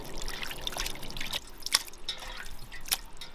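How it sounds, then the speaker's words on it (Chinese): Raw lamb meat is rinsed in a bowl of clean water, giving close splashes, sloshing and scattered drips in an irregular rhythm. "把那个羊肉给它倒到水清水里头"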